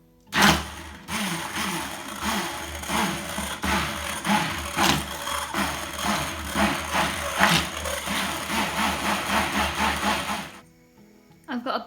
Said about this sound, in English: So I'm just going to give this a couple of whizzes with my little stick blender here.